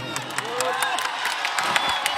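A large crowd at a Bihar election rally cheers and whoops loudly and steadily, with shouts and scattered claps and voices blending into a continuous roar.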